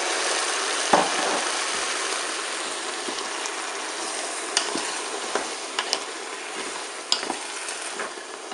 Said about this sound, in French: Je vais maintenant ajouter mes tomates pelées.